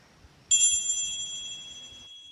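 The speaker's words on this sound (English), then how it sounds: "when you hear the chimes that I'm going to ring" Meditation chimes rung to close a guided meditation over Zoom, a single bright metallic strike ringing out with a clear sustained tone that fades gradually, heard alone in near silence.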